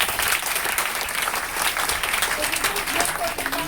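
An audience at a motivational seminar breaks into brisk, dense applause that carries steadily throughout, with a voice faintly audible beneath the clapping.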